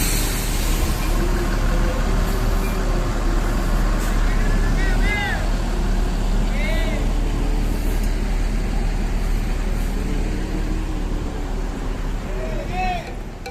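The ANS Johnny Walker bus engine drones steadily and loudly while the bus parks at the terminal, with a continuous low rumble throughout and people talking in the background.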